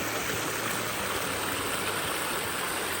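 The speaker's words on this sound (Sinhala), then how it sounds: "මේක තමයි අර උඩදී වැටෙන වතුර පාර." Water falling over rocks at the Garadi Alla waterfall in Kaluga, a steady close rushing and splashing roar with a low churning undertone, continuous and unbroken with no speech.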